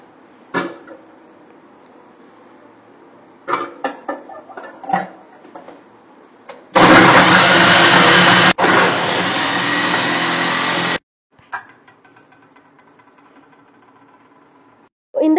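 An electric vegetable chopper with a copper motor runs for about four seconds, a loud steady whirring hum. Clicks and handling noises come before and after it.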